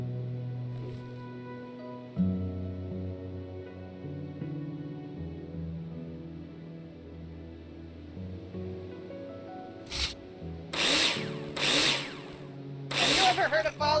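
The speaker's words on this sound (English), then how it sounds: "Now place them in the holograms and screw them in with a drill." In Builder Simulator, a power drill drives screws into wall profiles, sounding in several short, loud whirring bursts near the end after a long stretch of steady background music.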